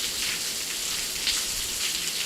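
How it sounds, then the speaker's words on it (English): Steady rain falls outside during a live baseball broadcast, a continuous even hiss of drops on surfaces, fairly close and moderately loud with no talk over it. "It's been raining here for off and on for about a few hours now."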